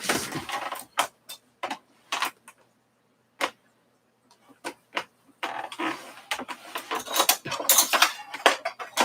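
Knife cutting potato chips to equal length on a board, a run of sharp clicks and taps, some in quick bursts, some isolated, with a denser clatter of cutting near the end.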